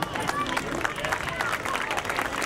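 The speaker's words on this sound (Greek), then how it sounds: "θα παρακαλούσα ένα θερμό χειροκρότημα" Warm applause from an outdoor crowd at an open-air art installation opening in a town square, steady dense clapping mixed with crowd babble and voices for the whole stretch.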